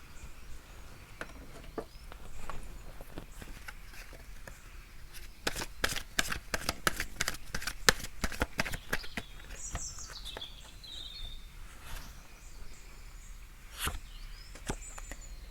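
Soft shuffling and drawing of tarot cards at close range: scattered crisp flicks and riffles, a denser burst of card slaps in the middle, over a quiet background.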